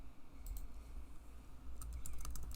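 Someone types on a computer keyboard, with quiet close clicks in two short bursts over a low background hum.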